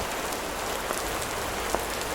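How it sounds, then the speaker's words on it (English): Steady, dense patter of rain drumming on a taut tarp overhead at a camp, close and even, with occasional louder drops standing out. "You can hear the rain, it's very consistent."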